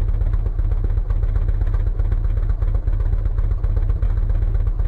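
A stunt motorcycle engine in a water-stunt bike video game drones steadily and loudly at a constant, slightly pulsing pitch throughout, with no talk.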